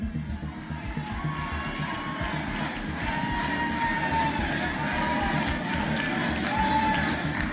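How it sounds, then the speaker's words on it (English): A rally crowd at a US presidential election event cheers and whoops continuously, loud and dense throughout, with shouts rising over a steady roar and no clear pauses. "can we give my wife an amazing round of applause, please?"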